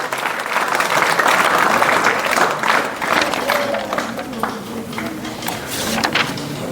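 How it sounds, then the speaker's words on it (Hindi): Sustained applause from an audience at a school awards ceremony honouring topper students at Baba Ramdev Public School, a dense steady clapping wash lasting throughout, with faint voices mixed underneath. "एक बार जोरदार तालियां।"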